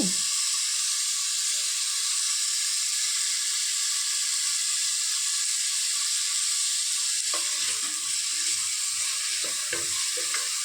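Paneer sizzles and fries in a hot pan, a steady loud hiss of oil that continues throughout, with faint stirring and clinking sounds near the end.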